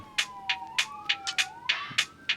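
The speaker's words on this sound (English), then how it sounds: "There's sirens outside, don't worry about it though." A faint wailing siren rises and falls in the distance outside, under a crisp, regular hi-hat loop from a lo-fi beat.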